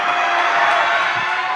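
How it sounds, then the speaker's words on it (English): Loud crowd cheering fills the space at a youth bouldering cup final in Kaunas, a dense, sustained roar of many voices and whoops from start to finish. "We hear a really loud cheer for..."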